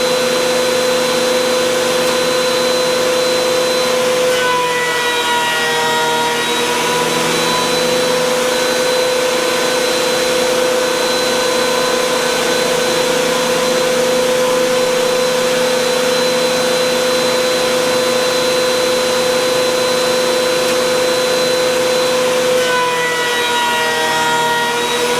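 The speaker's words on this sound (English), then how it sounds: "So I'm going to go ahead and get that through the planer and get one side planed out" A wood planer runs loud and continuous with a steady motor whine and a layered, droning hum as it planes cutting-board boards. The pitch shifts briefly as stock feeds through near the start and again near the end.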